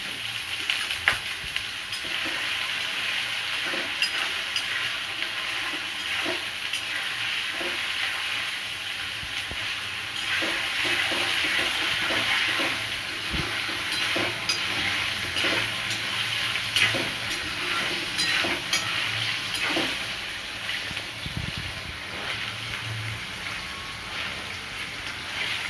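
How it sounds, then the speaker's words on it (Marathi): Paneer pieces fry in a pan toward a medium golden brown, producing a continuous soft sizzle with scattered light crackles and utensil clicks throughout, no voices present. "फ्राय करायचं आपल्याला. थोडंसं मीडियम गोल्डन ब्राऊन होत होते आणि मग काढते."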